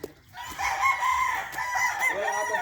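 A sweater gamecock rooster crows in a loud, extended call, preceded by a brief cluck, close by and fairly clear against a faint farm background.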